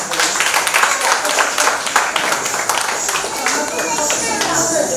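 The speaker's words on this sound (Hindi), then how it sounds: "गोटे भव्य करताली हो जाओ" Audience clapping steadily at a dance performance event honouring dancers, a dense continuous wash of applause lasting throughout, with crowd murmur and voices mixed in.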